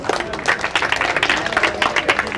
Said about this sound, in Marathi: एकदा जोरदार टाळ्या त्या संस्थेसाठी